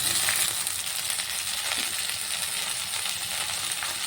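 Washed sorrel leaves tossed into a pan of lightly fried onions, giving a steady, dense hiss of sizzling oil with faint crackles throughout, loud and continuous.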